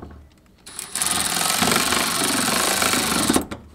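A power tool whirs in one sustained loud burst of about three seconds, tightening 10 mm bolts on a K-series car's suspension, with quieter moments before and after.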